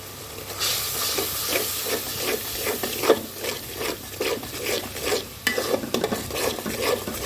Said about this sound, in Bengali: দিয়ে দেবো মরিচ গুঁড়া এবার ভালো করে মিশিয়ে নেব